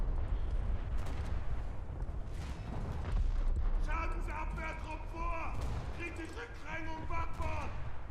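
Naval guns fire in War Thunder, with booming blasts and rumbling impacts over a dense battle din, while someone talks over the action.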